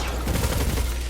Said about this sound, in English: When you activate Ravenous Beast, it goes to a 900 RPM submachine gun.